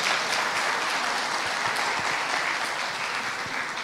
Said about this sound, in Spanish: Sí, aplauda para que se animen.